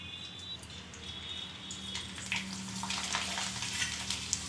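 Rice and potato papad frying in hot oil in a kadhai, a steady broadband sizzle with crackling bursts that grows denser and louder in the second half, heard alone without talk.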